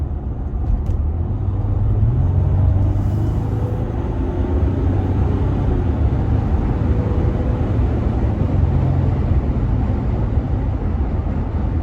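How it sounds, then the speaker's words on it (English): A 2021 Jeep Gladiator Overland EcoDiesel pickup's engine roars steadily as it accelerates onto a highway, low rumble rising in pitch with heavy road and wind noise throughout. "we're pulling onto the highway. I'm gonna give it a good amount of throttle too."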